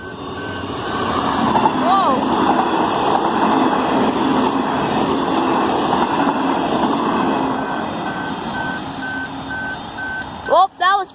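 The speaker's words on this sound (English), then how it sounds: "here comes the train" A Queensland Rail train passing a level crossing, with a steady rumble of rolling stock, repeated crossing warning tones and a horn-like sweep near the end, as a person exclaims briefly.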